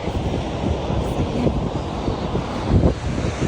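Strong wind buffets the microphone in uneven gusts, a loud rushing roar with low thumps and a sharper blast near the end.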